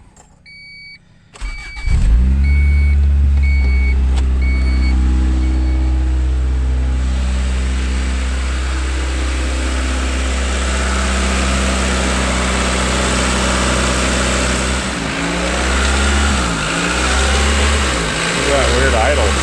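A 1992 Honda Accord cranks with a few warning beeps, catches and settles into a steady idle, then its revs rise and dip in a surge near the end, with someone speaking over it.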